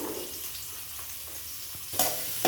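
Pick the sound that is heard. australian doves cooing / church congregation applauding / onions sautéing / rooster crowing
onions sautéing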